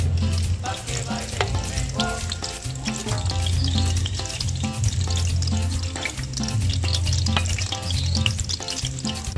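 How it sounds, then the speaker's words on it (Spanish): A slice of onion fries in hot lard, giving a loud, steady sizzle and bubbling crackle throughout, close up and with no talking. "ya se calentó la manteca. Le vamos a agregar una rodaja de cebolla."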